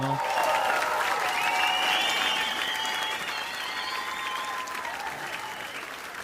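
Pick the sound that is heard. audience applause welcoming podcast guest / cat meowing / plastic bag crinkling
audience applause welcoming podcast guest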